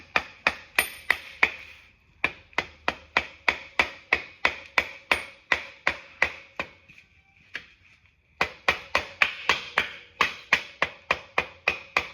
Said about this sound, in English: grab your mallet or your crescent wrench and tap it in